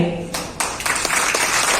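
Audience applause at a training program in a hotel hall, clapping swelling in bursts and building into a fuller round, with a voice briefly over it.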